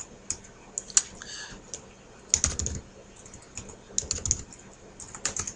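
Fingers tap on a computer keyboard in quiet, uneven bursts of crisp clicks, close by with short pauses between runs of keystrokes.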